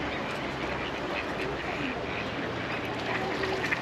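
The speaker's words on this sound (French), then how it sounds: "Oh, c'est l'île aux oiseaux, là, non? Oui. Au canard." Ducks quack on a riverbank by an island of birds, with scattered calls over a steady outdoor background.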